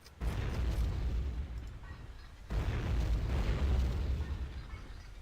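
Deep booming underwater depth charge explosions in the submarine game Silent Hunter 3, two heavy rumbling blasts a couple of seconds apart, each followed by a long sustained roar.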